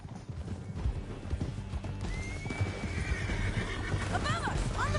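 In the Red Dead Redemption 2 video game, a horse's hooves clop rapidly at a gallop while the horse lets out a loud rising and falling whinny near the end, with voices speaking over the ride.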